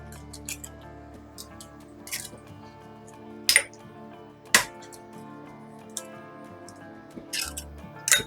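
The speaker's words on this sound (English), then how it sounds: "we are going to crack our 3 eggs into it" Three eggs cracked into a rinsed bowl for egg drop soup, a few sharp cracking taps spaced out over several seconds, close and crisp over a faint background hum, with no talk.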